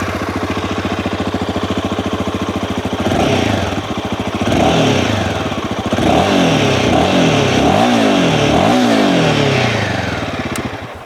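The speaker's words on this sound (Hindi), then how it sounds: "तो चलिए मिलकर सुनते हैं कि इसका एग्जॉस्ट नोट कैसा है।" A Royal Enfield Himalayan 452 motorcycle idles with a loud, close, even thump from its exhaust, then is blipped through a series of rising revs that fall back to idle, alone without talk.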